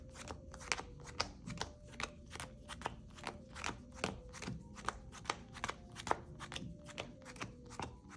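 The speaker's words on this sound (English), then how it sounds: "let's power shuffle since everything was all" A deck of trading cards is power shuffled by hand, producing quick, repeated crisp riffling snaps in a fairly steady rhythm, soft and close with no speech.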